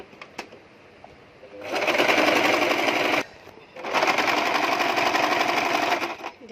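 A sewing machine double-stitching the sleeve of a princess-cut nighty runs in two loud, close bursts of rapid stitching, separated by a short pause.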